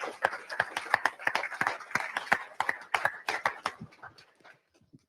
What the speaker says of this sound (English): If you could all rise, we'd love to give you a round of applause and welcome to our family.